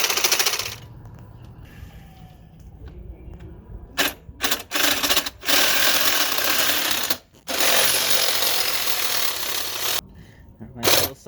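A reciprocating saw cuts steel for a Winnebago foam roof, its loud harsh buzzing running in bursts of a second or two and a longer stretch, broken by short pauses, close by.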